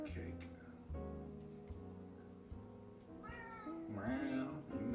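Pet cat meowing indoors in a kitchen, several drawn-out, wavering meows close to the listener, the last one loudest, with a person talking around them.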